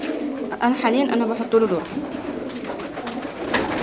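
Pigeons in a loft kept by a beginner breeder coo in soft, rolling calls close by, with a person talking over them.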